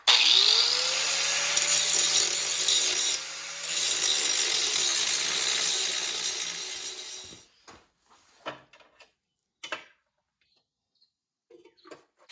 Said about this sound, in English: Grind that off.